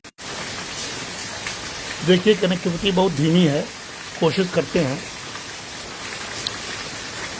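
Rain falls in Varanasi as a steady, close hiss throughout, with someone speaking over it in short phrases.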